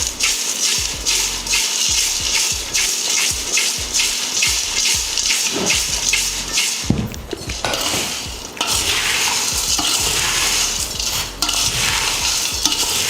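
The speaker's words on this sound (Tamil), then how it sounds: "இந்த மாதிரி குலுக்கி எடுத்துக்கோங்க." A crunchy Tamil-style mixture snack being shaken and tossed in a vessel to combine, a steady dense rattling and rustling that continues throughout, loud and close, with a brief clatter partway through.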